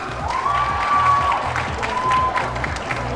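An audience at a NARS beauty event applauds in a steady, dense patter with scattered cheers. A thin sustained whine sits above it, and the sound holds at an even level throughout.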